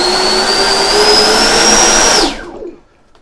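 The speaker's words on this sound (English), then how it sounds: "Now we will test the engines." Twin electric ducted fan engines on an FMS Su-27 RC jet whine loudly and steadily at high power, then cut off abruptly and spool down to silence within a second.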